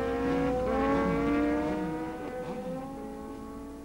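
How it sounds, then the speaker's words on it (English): A Yamaha FJ 1100 drag bike making a run at Santa Pod, its engine note rising loud and close, then easing off slightly as it pulls away. "This Yamaha FJ 1100 belonging to Paul Lawrence was long, low, and turning 11-second runs here at Santa Pod."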